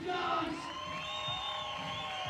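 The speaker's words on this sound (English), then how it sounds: "Katie and Simon, his mom and dad cheering on" Parents and spectators cheer and shout from a distance during a BMX men's park final at Andalucía Urban 2023, a continuous faint crowd roar with occasional whoops over the arena's background noise.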